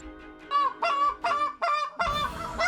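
Geese honk during a waterfowl hunt from a blind, a series of loud, close, nasal calls in repeated bursts with short gaps, ending in a rougher, busier honk.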